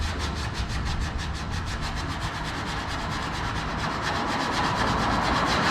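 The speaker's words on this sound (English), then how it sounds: "Just a Bondo spreader. You could call it a Bondo sander now." Steady rhythmic rasping of a Bondo spreader used as a sanding block, rubbed back and forth in quick regular strokes, close and continuous with no talk.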